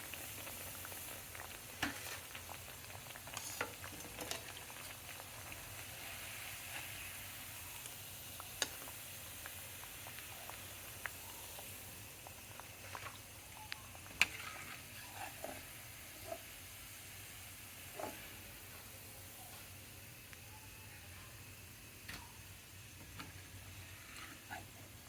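Khajoor sweet dough pieces frying in oil, with a faint, steady bubbling sizzle and occasional small clicks from a slotted spoon.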